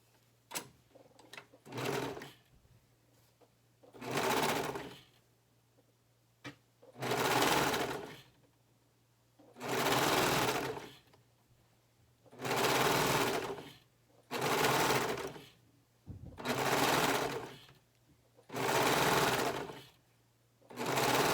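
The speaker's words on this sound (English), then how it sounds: "we're going to lay it down and sew them together." A sewing machine stitches a neckband onto a garment in repeated bursts, each a loud, steady whir lasting one to two seconds with short pauses between, close by and alone.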